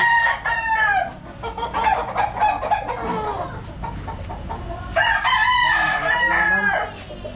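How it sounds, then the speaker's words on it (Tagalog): A young gamecock stag from a game farm, sired by an imported Grand Kelso, crows loudly and clucks up close in two long drawn-out calls with a steady low background rumble. "So ito yung isang stag natin."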